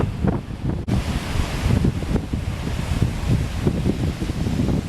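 Ocean surf rolls onto the Rockaway Beach seashore at Rockaway Park, a steady loud wash of breaking waves with wind buffeting the microphone throughout and no voices.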